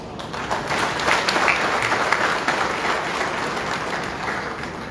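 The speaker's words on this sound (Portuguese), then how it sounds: "Que assim não age e que deve merecer os nossos aplausos." Audience applause in a parliamentary chamber, a steady sustained clapping from a crowd that holds at an even level throughout, with no speech over it.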